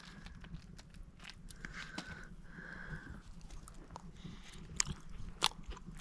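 Chewing and biting at a riverside wild camp during a taste test of food with syrup: soft, close crunchy bites and mouth noises in a quiet outdoor setting, with small scrapes and clicks.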